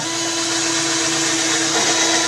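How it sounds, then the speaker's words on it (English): Power drill whirring steadily as it bores a pilot hole into wooden chair stock during a chair restoration, a constant loud motor tone with a sustained pitch and no pauses. "Make the pilot hole, of course, smaller than the screw you're using."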